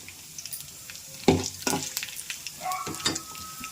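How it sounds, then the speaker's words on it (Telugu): Urad dal frying in oil in a pan for gongura chutney, a crackling sizzle with sharp spatula scrapes and stirring clatters scattered through, close by and uneven in loudness. "ఆయిల్ పోసాం కాబట్టి ఇదిగోండి ఈ మినపప్పు వేస్తున్నాను"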